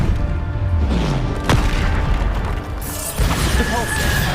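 Bombarda spell explosions in Hogwarts Legacy, a steady wash of booming, crashing combat blasts with a sharp hit around the middle and denser bursts near the end, all loud and close.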